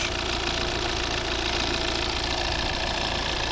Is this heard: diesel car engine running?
yes